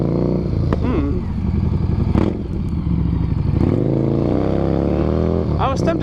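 Harley-based Stormtrooper tracker motorcycle engine revving loudly and close in a rowdy, continuous rumble with a few throttle blips, while someone talks over it.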